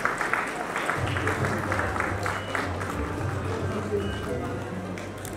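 Audience applause at the Music Khabar Music Award 2021 ceremony in Nepal, a steady wash of clapping from a large crowd that runs through the whole stretch at even loudness, with a low musical hum underneath.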